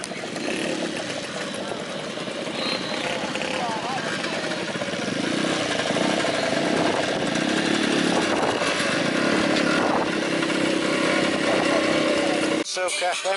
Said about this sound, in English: We've got a load of motorbikes coming now.